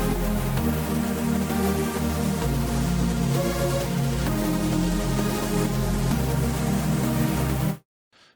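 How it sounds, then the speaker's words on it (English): Rich, full synth pad chords from Reason 13, shaped by filter resonance and an LFO sweep on two devices, sustain loud and dense with a few chord changes before cutting off abruptly near the end. "You can hear our chords are extremely rich and full right now."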